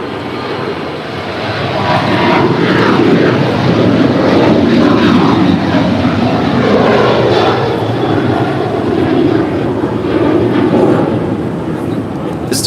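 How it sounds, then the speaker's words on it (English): A United Airlines Boeing 737-900ER jet departs LAX bound for Denver, giving a loud, steady broadband engine roar that holds for the whole stretch with no talk over it. "This departure is United Airlines Flight 552. Departing to Denver, it's a 737-900 ER."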